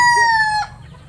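A rooster in a chicken range area crows a single loud, close, drawn-out call that cuts off sharply, followed by quiet.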